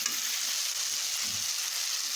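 Potatoes fry in a pan as fried eggplant is added for a potato, eggplant and tomato curry, producing a steady, even sizzle with faint stirring scrapes underneath.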